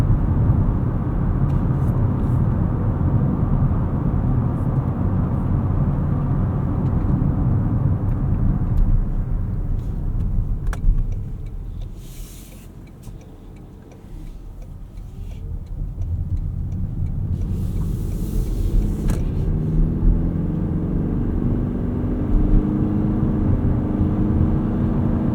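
A 2025 Toyota Crown Signia's 2.5 engine drones while driving, a steady low cabin rumble that eases into quieter running mid-way before the drone returns.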